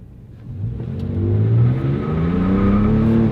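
A Toyota V6 mid-sized pickup truck accelerates hard with its tires spinning, the engine note rising steadily from a low rumble to a loud, sustained roar.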